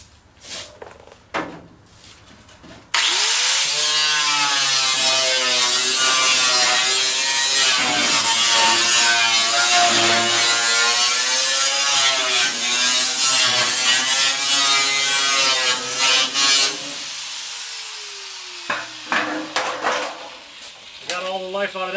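Steady, loud grinding wheel cuts into metal on a semi being turned into a pickup. The whine runs continuously for about fifteen seconds, with brief scrapes and a voice before and after.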